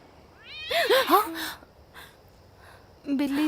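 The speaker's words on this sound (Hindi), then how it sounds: "बिल्ली थी।" A cat meows several times outside a house at night, a few clear rising-falling calls close by, followed by a pause and another meow.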